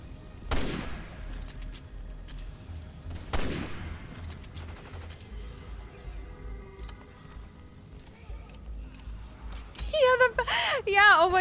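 Sniper rifle shots in Resident Evil 6, two sharp, widely spaced cracks with long decaying tails over a quiet game ambience, followed later by a warbling effect, with a person talking.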